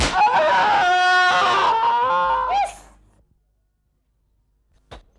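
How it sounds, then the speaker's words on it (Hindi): A high, strained cry with strong harmonic bands rises and wavers for about three seconds, then cuts off into silence, followed by a brief faint knock. "ये चीखने की आवाज किसकी आई?"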